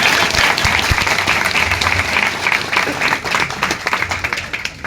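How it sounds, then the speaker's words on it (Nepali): An audience at a church gathering in Koramangala, Bengaluru, claps in a dense, steady round of applause that runs loud and even throughout, with scattered individual claps standing out. "बेङ्गलोरको लागि त ताली बजाइदिनु"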